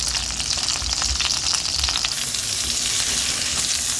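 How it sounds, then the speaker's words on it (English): Two small chopped yellow onions sautéing in a skillet after meat is removed, giving a loud, continuous close-up sizzle with scattered crackles throughout. "Got my onions in here. I chopped it up earlier off camera. And I'm gonna let these saute for a couple minutes"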